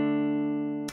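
Triad chords struck all at once in a guitar-style drill beat, a single steady chord sustaining loudly for about a second before cutting off abruptly.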